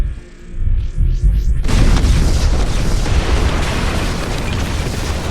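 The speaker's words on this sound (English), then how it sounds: "The explosion happens, the shield forms just in front of the flames." A loud explosion erupts with a deep, sustained booming roar that fills the space and rumbles on for several seconds after a brief lead-in of swooshing tones.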